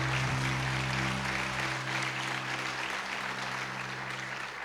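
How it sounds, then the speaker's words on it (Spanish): A church congregation applauding during a Sunday morning service, a dense continuous clapping that starts over a fading held musical tone and then carries on alone, moderately loud. "Démosle un fuerte aplauso al Señor en esta mañana"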